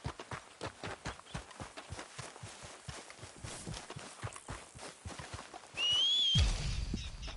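Rhythmic hoofbeats clip-clopping at a quick pace, with a brief whistle-like tone and a burst of louder noise near the end.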